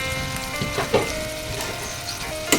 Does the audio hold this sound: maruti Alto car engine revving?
no